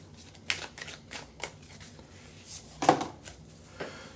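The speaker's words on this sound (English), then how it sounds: "Let's go ahead and shuffle." Oracle cards being shuffled by hand, a series of crisp riffling and slapping bursts at irregular intervals, close and fairly quiet, with no talk.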